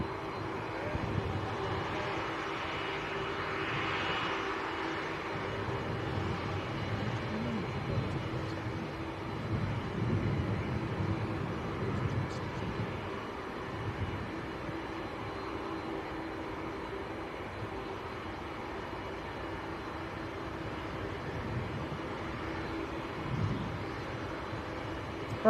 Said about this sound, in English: I think Vueling is about to touch down on the other side as well